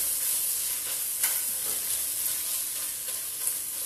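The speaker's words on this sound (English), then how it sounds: "So you go ahead and stir that tomato paste in there." Tomato paste being stirred in a hot pan for spaghetti makes a continuous bright sizzle, with soft scraping strokes of a spoon and a few louder clicks scattered through it.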